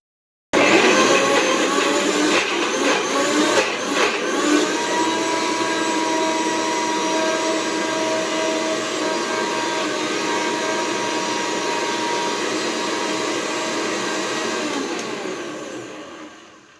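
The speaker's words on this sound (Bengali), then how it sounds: "এবার আমি এটাকে ছোলার ডাল দিয়ে মিক্সিতে পিসবো" Kitchen mixer grinder blending mushrooms with chana dal, a loud steady motor whine that starts abruptly, runs continuously for about sixteen seconds and winds down at the end.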